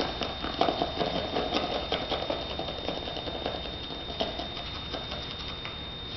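Quiet rapid pattering of salt sprinkled onto a metal cymatic plate, with a thin steady high whine underneath.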